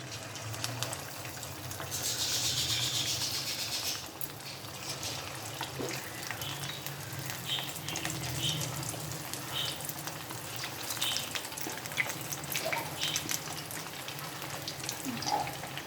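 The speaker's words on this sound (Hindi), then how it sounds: "अब हम इसमें चिकन डालकर फ्राई करेंगे।" Chicken pieces frying in hot cooking oil in a wok, a steady close hiss and sizzle with a brief louder burst of bubbling near the start, continuing evenly without talk.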